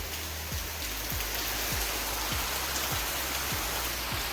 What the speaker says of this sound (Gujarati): આ વરસાદ ચાલુ જ